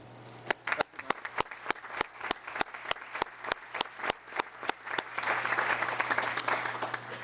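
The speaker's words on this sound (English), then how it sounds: "Best we can do right now is a big round of applause." A town council meeting audience gives a round of applause: a few distinct, evenly spaced claps at first, swelling into a denser, fuller wash of clapping toward the end, with a steady low hum underneath.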